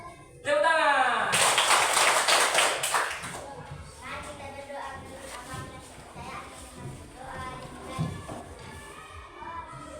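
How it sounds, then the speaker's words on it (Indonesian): Hands clap together in a burst of applause, loud and dense for a couple of seconds, then fading as children's voices and chatter take over in a classroom-like setting. "Tepuk tangan."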